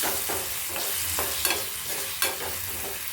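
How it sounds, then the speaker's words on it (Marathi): Mango pieces sizzle steadily in a hot pan while a utensil scrapes and stirs with occasional light clinks. "त्याला हलवत राहायचं थोडा वेळ"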